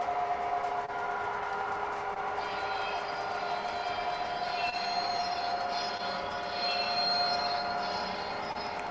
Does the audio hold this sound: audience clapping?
no